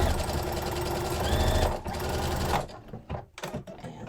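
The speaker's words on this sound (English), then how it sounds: "I'm going to do some more back stitching here." Sewing machine back stitching a thrifted scarf, a steady close whirring run that stops partway, followed by a few faint handling clicks.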